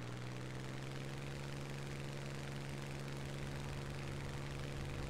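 An aircraft engine in the War Thunder video game, heard during a takeoff roll: a steady, droning propeller-engine hum with a constant low tone, unbroken and uniform for the whole stretch, with no talk.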